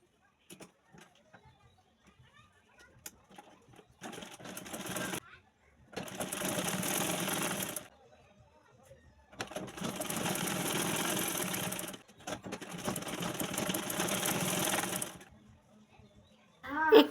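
Sewing machine stitching a garment neckline in several separate runs of rapid whirring, each lasting one to three seconds, with quiet pauses and soft handling noises between them.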